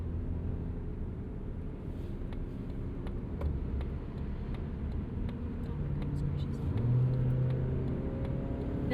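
A 2026 Mazda CX-30 2.5 S engine roars steadily under full throttle, a dense low rumble that swells louder near the end, with faint ticking in the background.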